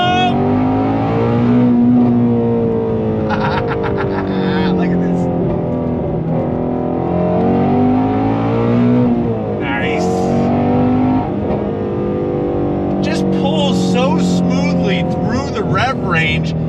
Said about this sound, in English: But let's see how she handles. Here we go. On throttle!